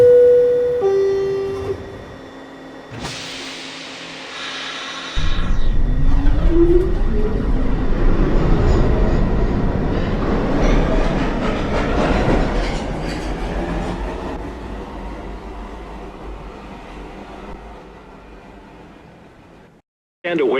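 An R62/R262 New York subway 1 train pulls out of a station, its low rumble building and rising in pitch as the cars gather speed, with door chimes and announcement-like tones beforehand and the roar slowly fading.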